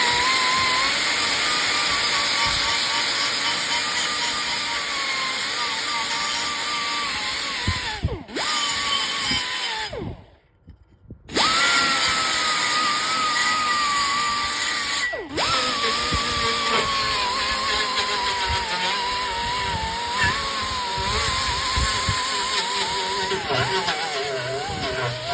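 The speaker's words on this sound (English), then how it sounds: "So I need to grind this metal down." An angle grinder grinds down a metal patch panel on a 1964 Impala convertible. It runs loud and continuous, breaks off briefly twice, then spins back up, with no voices.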